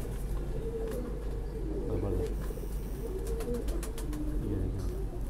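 Dub pigeons coo in low, rolling, repeated calls over a steady background hum, fairly quiet and without clear speech.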